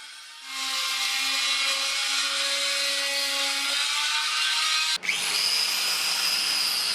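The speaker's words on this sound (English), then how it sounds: "I used an oscillating tool with a scraper to make removing the underseal a little bit easier" An oscillating tool fitted with a scraper strips underseal from the underside of a 1983 Mercedes-Benz W123 280CE. It gives a steady, close, high buzzing whine that shifts pitch abruptly partway through.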